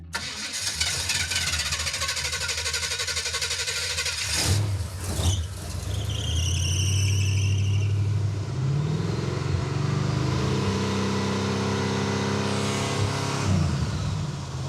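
Super Camaro engine cranking and firing up, then running loud and close with sharp revs rising and falling over a rough idle.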